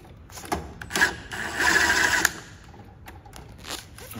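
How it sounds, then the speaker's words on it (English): An impact driver with a long bit backs a screw out of a Liftmaster garage door opener sensor, giving a buzzing, rattling whir that runs for under a second and then a few brief, uneven bursts nearby. "I like to use this long bit here with my impact."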